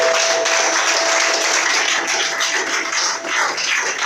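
Worshippers in a church applaud loudly and continuously for about four seconds, a thick, steady patter of many hands with no talking over it.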